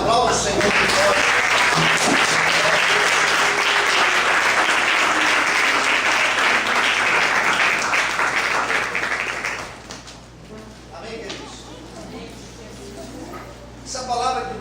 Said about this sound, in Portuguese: Desocupa a sua mão, aplauda o Senhor por nós.